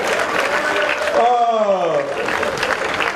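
A live audience at a 2013 comedy show in Ouagadougou, Burkina Faso, applauds in a steady, dense wash of clapping, and a voice calls out briefly partway through.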